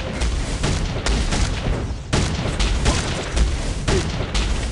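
Turret-attack combat in the mobile video game Mobile Legends: dense, repeated booming impacts and gunfire-like bursts layered over one another, loud and continuous throughout the stretch, with no voice heard.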